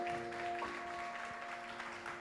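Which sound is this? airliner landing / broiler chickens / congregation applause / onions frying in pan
congregation applause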